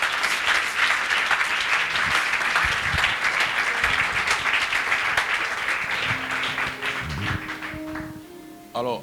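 A church congregation applauds with dense, sustained clapping for most of the stretch, which thins toward the end as a few voices and tones emerge.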